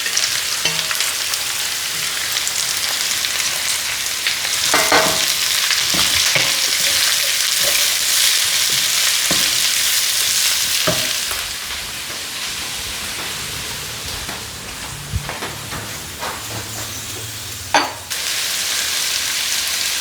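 Chopped onions with a little salt fry in a pan for Kerala-style egg biryani, giving a steady close sizzle throughout with occasional clinks and scrapes of stirring, and no voices.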